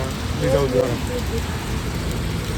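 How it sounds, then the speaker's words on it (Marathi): Heavy rain pours steadily in a dense, even hiss of drops on surfaces, with a faint voice briefly underneath. "पावसावर तुफान चाललाय अक्षरशः"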